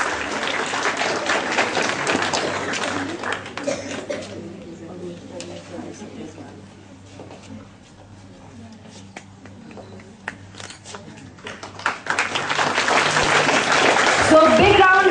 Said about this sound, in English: So big round of applause for Harman and Palakshi